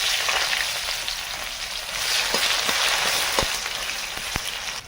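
Onions sizzle and crackle in hot oil in a pan as meat is cooked, a steady loud frying hiss with a few sharp pops and stirring clicks, no talking.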